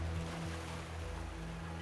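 Ocean surf rolls against the steep cliffs and grassy bluffs of a craggy coastal island, a steady close wash of water with low rumbling and no voices.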